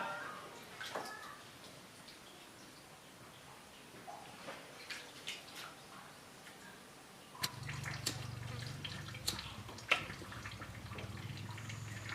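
Wild fruit being washed: soft drips and small splashes of water, then a louder steady running-water rush begins partway through, with occasional clinks.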